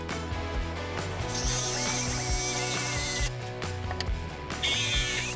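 A power drill bores holes into the top piece of a DIY build, its steady whirring and ratcheting grind running continuously up close, with brief shifts in pitch as the bit bites.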